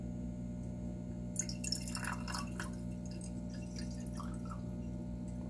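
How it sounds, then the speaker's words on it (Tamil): Water pours into a small clay cooking pot, part of a set of miniature traditional Indian cookware. A soft splashing trickle lasts a few seconds over a steady low background hum. "சோ இப்ப தண்ணி தேவையான அளவுக்கு தண்ணி ஊத்திக்கும்."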